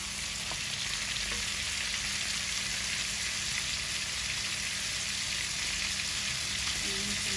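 Food fries in a pan in a home kitchen, a dense, steady sizzle at close range that holds evenly throughout, with no clear stirring or talk.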